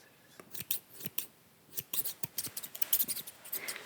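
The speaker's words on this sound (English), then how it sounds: "And then I will snip off the excess." Scissors trim excess string from knitting with close, crisp snips, a few spaced cuts at first, then a quicker cluster of small clicks against a near-silent background.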